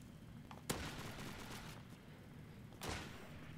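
A broken sniper rifle fires two sharp shots a couple of seconds apart in a Roblox WW2 game, each crack standing out over a steady bed of background game noise.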